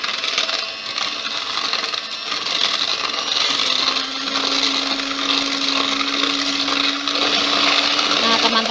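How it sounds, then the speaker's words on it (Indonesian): An electric mixer beats putu ayu cake batter with a loud, steady whirring drone that rises to a higher steady pitch partway through, while a voice talks faintly underneath. "Sekarang kita mixer kecepatan rendah lalu kecepatan tinggi."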